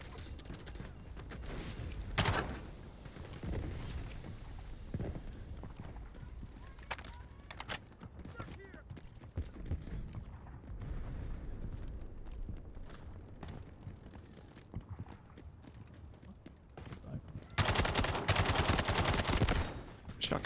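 Shotgun blasts in the video game Delta Force, scattered loud booms among other distant battlefield gunfire, with a dense burst of shooting near the end.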